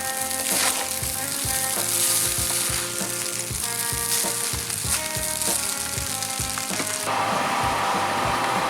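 Fried rice with simple vegetables sizzles steadily in a hot pan, a loud, continuous crackle with occasional stirring clatter and no one talking.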